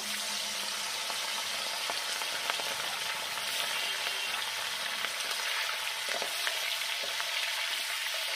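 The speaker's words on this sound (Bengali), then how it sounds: "মাংসগুলো একটু ভেজে নেব।" Chicken pieces fry in white oil, a steady bright sizzle with crackles and occasional stirring clinks. It is moderately quiet, continuous and heard alone without speech.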